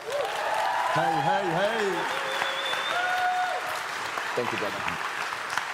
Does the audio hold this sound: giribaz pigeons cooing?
no